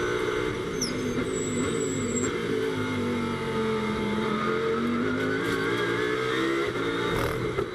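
GT race cars of the Blancpain GT Series Sprint Cup race at Brands Hatch, engines whining and shifting pitch continuously as they pass, loud and sustained with no voices over them.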